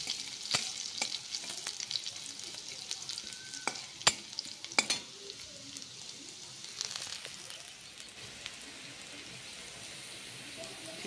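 Chopped onion and a green chili frying in a wok for Maggi noodles, a soft sizzle with scattered crackles and sharp ticks of stirring, fairly quiet and settling toward the end.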